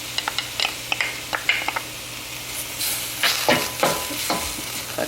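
Fresh tomatoes, garlic and green onion frying in a pan, a steady close sizzle with a quick run of light utensil taps and scrapes, then louder stirring bursts.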